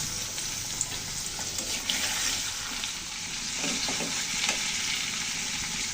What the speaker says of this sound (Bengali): আর এই যে মাছের সাথে এখন আমি যে আলুটা কেটে রেখেছিলাম আলুগুলো দিয়ে দিলাম, একসাথে ভাজা হয়ে যাবে